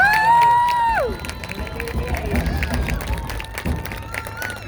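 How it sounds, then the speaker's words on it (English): Audience applause and cheering for the production crew at a high school parent night, a crowd clapping and shouting after a sustained tone fades, with voices mixed throughout. "Could we give a round of applause to these guys right down here?"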